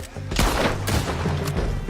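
Artillery fire in Red Dead Redemption 2 on a battlefield: loud, close booming blasts in quick succession, with rolling rumble and crackling gunfire in between.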